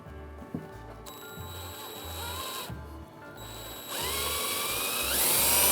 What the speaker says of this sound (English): I'm just going to use a little Forstner bit in here, right where that hole is